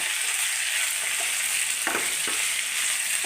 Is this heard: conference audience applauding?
no